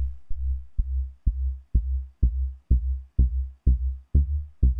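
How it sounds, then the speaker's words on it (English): A plucky techno bass synth with its decay raised plays about ten deep, punchy notes in an even, steady rhythm, each note snapping in and fading quickly, loud and alone. "It makes a bit more of a plucky sort of sound."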